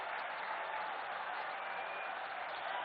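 A crowd applauds at the Kushinagar International Airport inauguration, a steady, dense wash of clapping that sounds faint and distant throughout.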